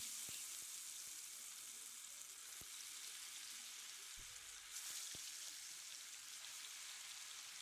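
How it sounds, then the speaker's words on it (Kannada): Garlic chicken kebab pieces frying in a pan, a steady broadband sizzle throughout with occasional sharper ticks and pops, close and even, no voices. "ಇದನ್ನು 2 ಕಡೆ ಬ್ರೌನ್ ಕಲರ್ ಬರೋ ತನಕ ಫ್ರೈ ಮಾಡ್ಕೋಬೇಕು"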